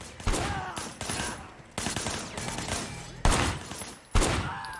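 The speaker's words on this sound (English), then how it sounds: "Firing shots from the passenger window" Rapid gunfire from the Sleeping Dogs video game, fired from a car's passenger window: a dense fusillade of sharp, loud bursts in several clusters over roughly five seconds, with dull engine and street rumble underneath.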